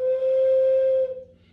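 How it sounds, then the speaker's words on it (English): An ancient Maya clay whistle from Jaina Island, shaped as a monkey god, sounds one steady, pure, fairly low-pitched tone held for about a second, then breathily fades, close and alone. "The next piece is a Maya whistle from the Haina Island."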